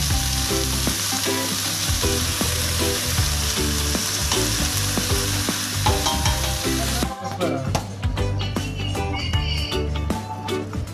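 Beef for pinapaitan fries in a pan with a loud, continuous close sizzle, while stirring scrapes and clatters break in sharply toward the end.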